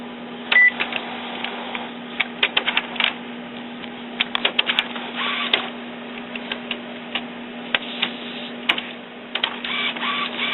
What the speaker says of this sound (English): Now I'm going to go to print out the nozzle.